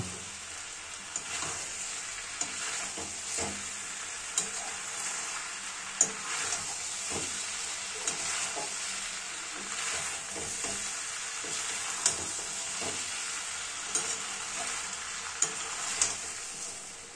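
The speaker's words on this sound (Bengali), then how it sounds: "ভাজা চিকেনগুলো সব কিছুর সাথে খুব সুন্দরভাবে মিলিয়ে মিশিয়ে নেব।" Browned fried chicken sizzles steadily in a pan while being stirred, a continuous hiss broken by regular clinks of the spoon against the pan.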